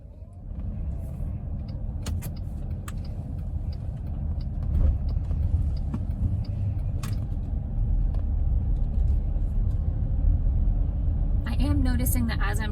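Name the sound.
car driving and turning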